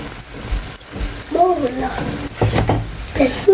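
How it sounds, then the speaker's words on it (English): Banana fritters fry in hot oil with a bubbling sizzle under brief tonal sounds and some nearby voices, the sound rising and falling over a few seconds. "I'm just gonna fry off these banana fritters now"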